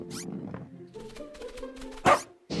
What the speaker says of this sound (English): Is that a puppy? I love puppies!